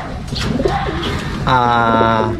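Inbred racing pigeon from a lap-champion line giving a deep, close cooing call in the second half, with a voice talking over the opening.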